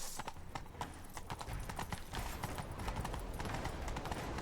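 Horse hooves gallop in the Witcher 3 video game, a steady rapid clip-clop rhythm running throughout over game background sound.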